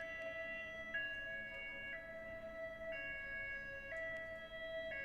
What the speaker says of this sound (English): There are some sirens in the background, so I apologize for that.